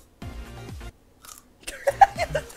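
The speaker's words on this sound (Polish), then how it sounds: "Ja słyszę tylko te chrupanie" Raw garlic cloves chewed with crisp, uneven crunches up close during an eating challenge, with short vocal sounds between the bites.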